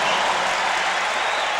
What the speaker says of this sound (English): And the crowd reacting to the block of Harper.